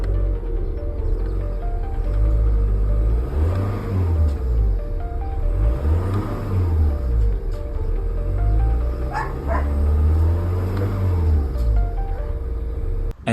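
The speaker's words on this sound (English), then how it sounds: "Here's a video revving the stock intake." A VW 2.0 TDI BKD diesel engine with its stock air intake revs repeatedly, each rise and fall of pitch clear and close, with a dog barking intermittently alongside.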